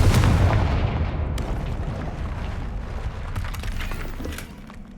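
A Confringo blasting curse erupts in Hogwarts Legacy with a heavy opening blast, followed by crackling bursts and sharp debris-like pops over a rumbling tail that thins out by the end.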